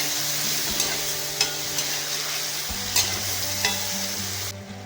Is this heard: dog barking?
no